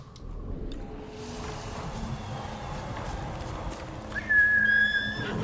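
A horse gallops across open ground in the video game Ghost of Tsushima, its hooves beating a steady, moderately faint clip-clop under the ambience. A bright, whinny-like tone rises near the end.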